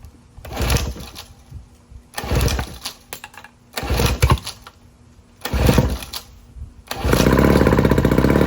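A 1974 Johnson Seahorse 15 HP outboard with a leaking fuel pump sputters through several short bursts of running, each dying away, then catches and settles into a loud, steady, smoky run.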